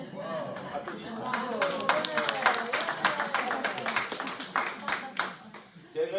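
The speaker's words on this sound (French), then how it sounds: "Applaudissements." An audience breaks into sustained applause, a dense continuous patter of many hands clapping at close range, with voices mixed in underneath.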